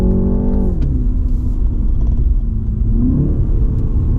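A loud, low turbocharged engine drone of a 2019 BMW 330i G20 M Sport that drops in pitch as a gear shifts, then steadily climbs again uphill under a deep rumble, heard from inside.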